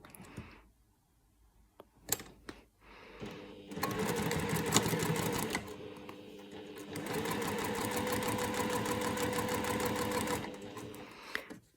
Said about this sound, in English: we can sew all the way down that now